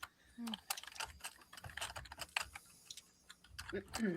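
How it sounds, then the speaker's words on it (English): Keys clatter on a computer keyboard in quick, uneven bursts of sharp taps, close and fairly quiet, while people talk over the typing. "I can hear every keyboard stroke on that."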